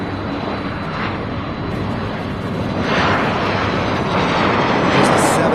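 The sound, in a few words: Boeing 767 jet aircraft landing at airport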